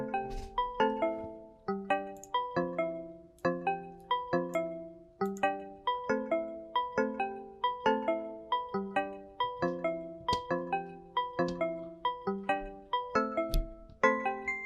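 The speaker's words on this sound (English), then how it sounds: "And then those bells come in." Bright bell tones ring out in a steady repeating pattern over a music track, each chime struck in rhythm and decaying quickly.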